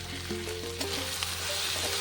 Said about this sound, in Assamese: এনেদৰে অকণমান সময় ভাজিব লাগিব।